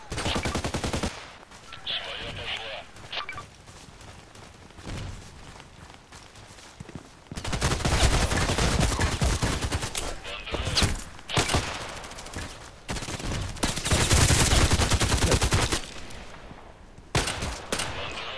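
Gunfire in the online shooter Contract Wars, with rapid bursts and volleys coming in clusters, separated by quieter gaps with footstep-like movement and some faint talk.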